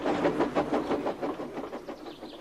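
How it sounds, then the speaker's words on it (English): Trains rushing through a tunnel in an animated railway story, giving a steady, rhythmic rumbling clatter of passing wagons that stays fairly loud and close for the whole stretch, with no voices. "All he could do was watch the trains rushing through the other tunnel."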